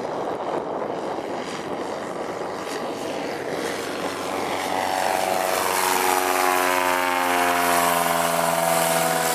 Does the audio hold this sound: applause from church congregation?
no